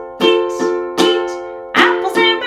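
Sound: ukulele strumming down-up strum pattern

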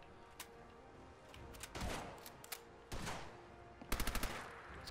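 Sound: enemy shotgun fire in the video game Fallout 4

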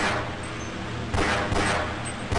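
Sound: gunfire from a gun in the video game Half-Life

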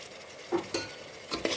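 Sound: onions and mint leaves being sautéed in a pan

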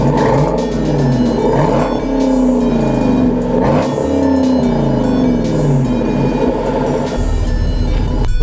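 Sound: car engine revving with loud exhaust

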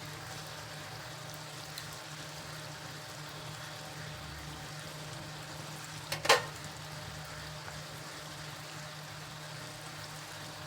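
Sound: potato lachha katori frying in oil

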